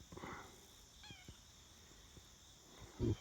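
A mother cat gives a few soft meows close by, short vocal calls spaced apart in a quiet indoor setting, with a brief louder thump near the end.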